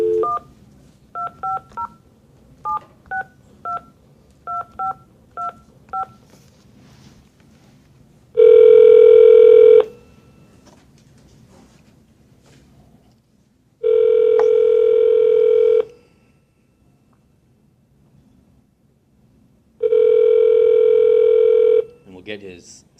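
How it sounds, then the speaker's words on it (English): A telephone being dialed, with a quick run of short touch-tone beeps followed by three long, loud ringback tones separated by pauses, with faint talk underneath. "Let me just dial Mike in here."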